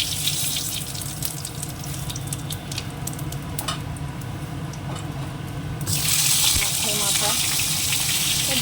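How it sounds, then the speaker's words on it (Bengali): Hilsa fish head frying in hot oil in a kadai with dried red chilli and bay leaf, a steady sizzle that rises sharply and grows louder partway through, close by. "মাথাটা ভাজতে দেবো শুকনো লঙ্কা দিয়ে একটু তেজপাতা"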